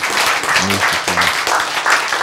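A crowd applauding loudly and continuously, with voices calling out briefly over the clapping.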